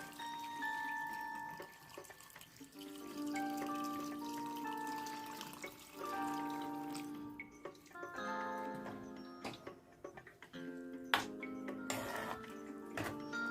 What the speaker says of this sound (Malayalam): ഞാൻ ചൂടുവെള്ളമാണ് ഒഴിച്ചു കൊടുക്കുന്നത് കേട്ടോ